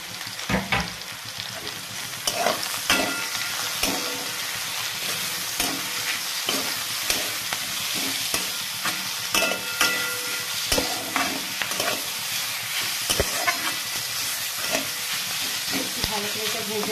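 Capsicum and onion fry in a pan while being stirred, a loud, steady sizzle punctuated by frequent scraping and clicking strokes of the spatula, close up and without speech.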